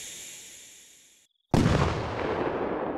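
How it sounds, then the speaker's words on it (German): A Palm Tree Rockets firework in Fireworks Mania: a fading whistling rise and a brief silence, then one loud, close burst that crackles and slowly dies away. "Und der Explosionssound ist auch ganz nice hier bei diesen Palm Tree Rockets"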